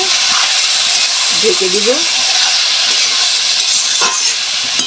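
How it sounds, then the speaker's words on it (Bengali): Vegetable curry stirred in a pan on the stove makes a loud, constant hissing sizzle, with a voice speaking briefly over it. "এখন আমি হালকা নেড়ে নাড়াচাড়া করে"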